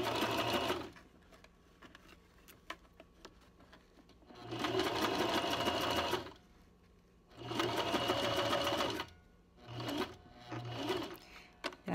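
A sewing machine stitches along drawn outline lines in three or four loud, close bursts of rapid mechanical whirring, separated by short pauses with softer clicks and handling noise.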